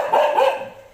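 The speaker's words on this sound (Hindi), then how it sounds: "एक उधर बैठ के कूलर में बैठ के भौंक रहा है" A dog barks once or twice in quick succession, loud and close, in a residential colony on a cold, foggy day. No one talks over it.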